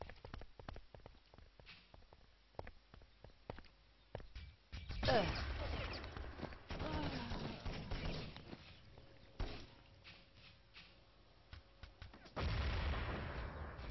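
MP5 submachine gun firing in a competitive first-person shooter match, sharp rapid bursts of shots, some near and some distant, with louder explosive blasts and clatter in the middle and at the end.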